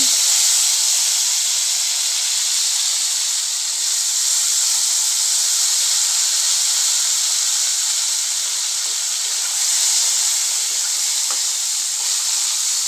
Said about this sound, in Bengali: গরমের সময় এই তেলে আমি বেগুন আর আলুটা ভেজে নেব।